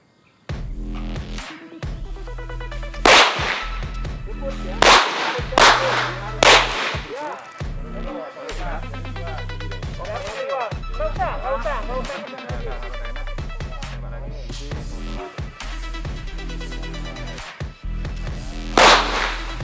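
Sharp pistol shots from an SAI handgun in PUBG ring out one at a time at irregular intervals, loud cracks separated by quieter stretches, with a person talking between the shots.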